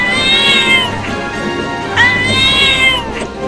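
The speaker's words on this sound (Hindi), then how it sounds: "ये बिल्ली इतना बोल क्यों रही है, वो भी हमारे पास आकर" A cat meows loudly and repeatedly nearby, with drawn-out wailing calls about a second and a half apart.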